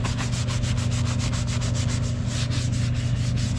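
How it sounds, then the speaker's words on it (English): Vinyl seat from a 1972 Honda CB500 Four being scrubbed clean, a close, loud, rapid rhythmic rubbing with steady back-and-forth strokes and no talking. "let me go around and give this a good scrub"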